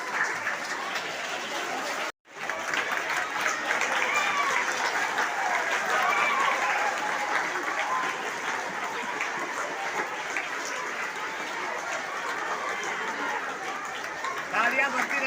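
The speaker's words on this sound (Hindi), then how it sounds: "तालियां बजती रहनी चाहिए बिल्कुल।" Sustained audience applause at a gathering marking the anniversary of India's first president, a dense, steady roar of many hands clapping close by, broken by a brief dropout early on, with some crowd chatter mixed in.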